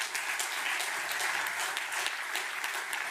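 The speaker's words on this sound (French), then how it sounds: "on peut vous applaudir" An audience at a conference on decarbonising heat applauds steadily, a dense and even burst of clapping from a full room with no talking over it.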